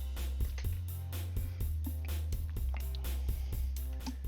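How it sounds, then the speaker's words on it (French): The NanoStudio software's built-in demo track plays steadily with drums, bass and layered synths, moderately quiet and without any voice. "ce que vous entendez là, c'est la démo"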